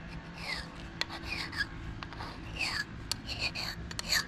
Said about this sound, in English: So I'm going to scrape all the paint and goo off these.